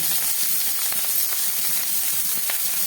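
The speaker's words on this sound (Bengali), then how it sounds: "এবারে এই ধোয়া চিংড়ি মাছগুলোকে আমি এর মধ্যে ভেজে নেব" Small washed prawns fry in hot oil, giving a steady, loud sizzling hiss that fills the whole moment, with faint crackles and pops and no speech.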